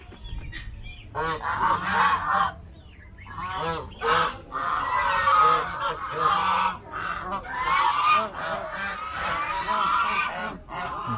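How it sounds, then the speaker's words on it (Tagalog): Farm ducks calling in a loud, repeated series of nasal honking quacks, several birds overlapping in bursts with short pauses, close by and dominant. "Mga bibe."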